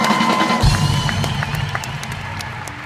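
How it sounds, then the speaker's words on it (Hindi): A comedy show studio audience claps and cheers loudly at close range, a dense burst of applause with scattered whoops and music or stage sound underneath, lasting a few seconds. "मैं सीरी चंदन के लिए जोरदार तालियां हो जाए एक बार।"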